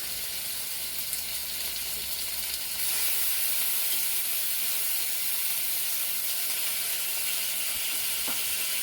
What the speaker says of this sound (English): Oh, I love the smell, the sound of bacon